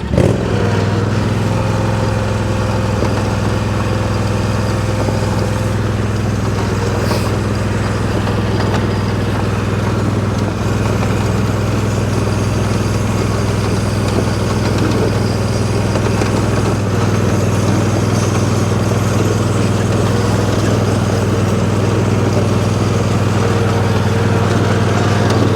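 A zero-turn mower drags an upside-down chain harrow across a gravel driveway, its engine droning loud and steady throughout with a constant low hum and continuous gritty scraping, no talk.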